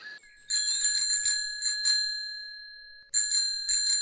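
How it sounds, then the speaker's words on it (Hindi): A cartoon ice cream cart's bell rings in quick bright bursts of several dings, pauses while one ring decays, then rings again in another rapid cluster, clear and prominent with no voices. "घंटी की आवाज सुनते ही"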